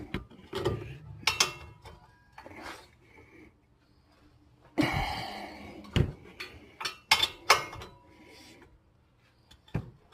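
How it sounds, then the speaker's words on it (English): Breaker bar on an extension with an 18 mm socket cracking loose brake bolts on a 2013 Ford Fusion, a series of sharp metallic clicks and clunks spaced irregularly with a loud burst midway, close and fairly quiet between hits. "take your 18 mil to your extension breaker bar. Crack these loose"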